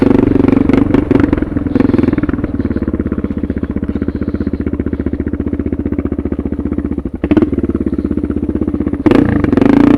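A Suzuki DR650 motorcycle fitted with a Procycle jet kit rides in second gear, its single-cylinder engine chugging loud and steady throughout, with a couple of brief surges of wind or throttle noise.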